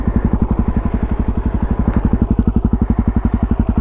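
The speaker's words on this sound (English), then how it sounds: "we're going to start the bike" A DRZ400 motorcycle with a quiet insert exhaust idles close by just after starting, its steady, rapid low thumping pulses running evenly and loud throughout with no talk.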